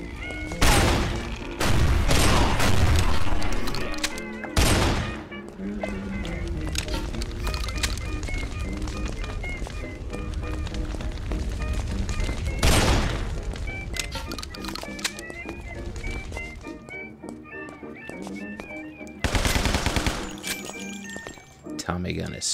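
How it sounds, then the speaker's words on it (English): Tommy gun fire in a zombie video game, rapid bursts and booming shots scattered through a busy mix of game effects and music, with a person talking over it. "Tommy gun is sweet."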